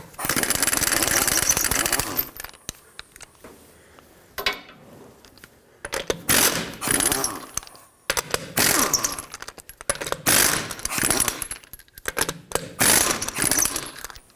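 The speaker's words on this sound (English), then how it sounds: "Now continue with your impact or tool of choice. 21mm socket, remove all the rest of your lug nuts." An impact wrench removes lug nuts with a 21mm socket from the front wheel of a 2012-2017 Toyota Camry, giving loud ratcheting bursts of a couple of seconds each, separated by short pauses, repeated several times.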